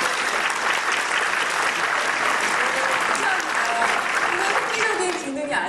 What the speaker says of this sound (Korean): 이쯤 하면 박수가 한번 나와줘야 됩니다.